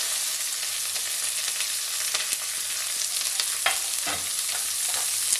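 Chopped onions, curry leaves and green chillies frying in oil, a continuous close crackling sizzle with a few sharp pops and stirring sounds, no talking.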